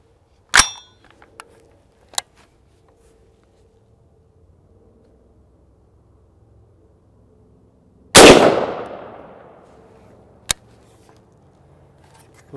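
A 350 Legend rifle fires a 180 grain Winchester Power Point round, one loud sharp report with a decaying tail, set among a few brief metallic clicks and knocks in otherwise quiet surroundings.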